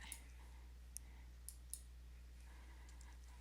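Sharp computer mouse clicks, four or five single taps spaced irregularly against a low steady hum, close and fairly quiet while someone works in image-editing software.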